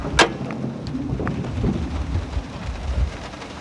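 Rain falls steadily outdoors around a pickup truck with a damaged engine, as a soft continuous patter with a sharp crack near the start and low rumbling underneath, no voices.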